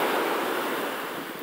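Ocean waves wash in with a broad, hissing rush of surf that fades slightly toward the end, close by and with no voices.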